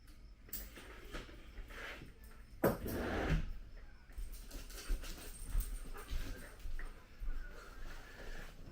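A dog whimpers and pants close by indoors on a rainy day, soft whines and breathy panting coming in irregular bursts over a quiet room.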